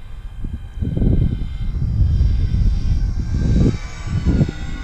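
An FT Corsair RC model airplane with an electric motor flies overhead, a steady whirring drone that swells louder and fades slightly as it passes, with no talk.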